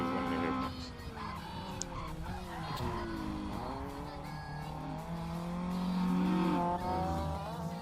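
In the Assetto Corsa video game, a car drifts through a hairpin corner, its engine revving and falling while tires squeal. The sound is moderately loud and keeps changing over several seconds.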